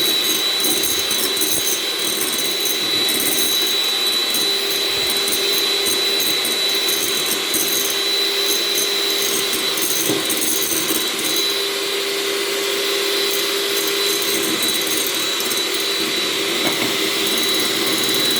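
An electric mixer whips egg whites with powdered sugar for an omelette norvégienne, giving a loud, constant high whine that holds steady close by throughout, with no talking.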